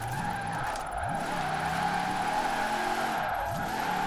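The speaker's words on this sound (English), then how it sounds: "sliding this thing down the mountain just for the sake of sliding it" An all-wheel-drive Jeep Gladiator sliding down a mountain in Forza Horizon 4, tires squealing in repeated swooping slides over a steady engine drone.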